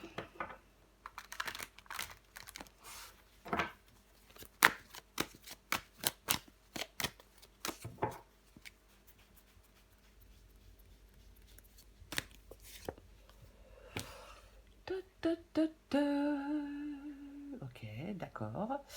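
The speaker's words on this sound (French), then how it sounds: "on va recouvrir des cartes" Tarot cards shuffled, flipped and laid down on a table in a string of close, crisp slaps and papery rustles, with quieter stretches of softer handling and a voice speaking near the end.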